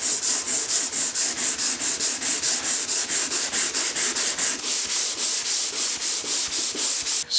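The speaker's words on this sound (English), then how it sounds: "Let's give the old 120 a shot, start knocking this down" Steady back-and-forth rasping of 120-grit sandpaper rubbed by hand over a carbon fiber car wing, in a regular rhythm of strokes, close and loud.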